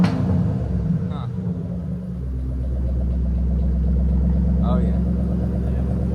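A supercharged 2012 Ford GT500 V8 idles with a deep, loud rumble and then settles into a steady, heavy drone close by, while someone speaks briefly.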